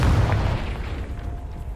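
Confringo blasting spell detonating in Hogwarts Legacy, a loud booming explosion with a heavy low-end burst that rumbles and decays over under two seconds.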